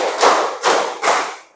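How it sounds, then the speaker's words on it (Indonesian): A class of pupils clapping together on a counted cue, three loud, slightly ragged group claps spaced evenly about half a second apart, fading after the last one. "tepuk lima"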